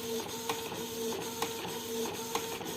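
A Canon IP2770 inkjet printer prints on PET film with art paper ink, its carriage whirring back and forth in a steady rhythm with soft periodic clicks, close and alone.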